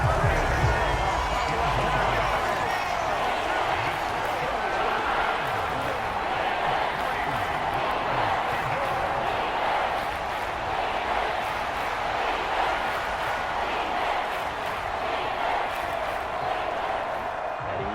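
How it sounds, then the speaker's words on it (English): A stadium crowd at Arrowhead roars steadily throughout a Packers vs Chiefs football game in Madden 24 on PS4, a loud, continuous wash of cheering with no gaps. "The Arrowhead crowd in full roar."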